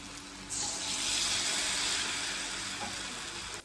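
A steady hiss and sizzle of mung bean dumplings deep frying in hot oil, continuous and close, with no talking.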